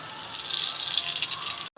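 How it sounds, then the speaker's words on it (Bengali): Water pours steadily in a continuous, hissing gush into a pan of beef curry masala, loud and close, then cuts off abruptly at the end. "হালকা পানি দিয়ে দিব কষানোর জন্য।"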